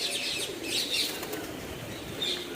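Pigeons flap their wings and coo at a dam site in Morbi, with a steady wash of wingbeats and soft calls over outdoor ambience; no one speaks.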